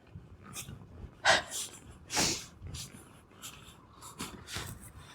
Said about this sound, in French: On oublie qu'il y a un chien qui nous colle.